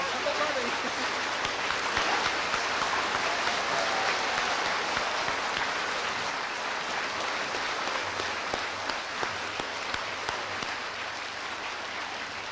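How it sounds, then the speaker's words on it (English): A studio audience at a British television quiz show claps steadily for a jackpot winner, the applause even and sustained throughout, moderately distant and without any voice over it. "Give her a round of applause."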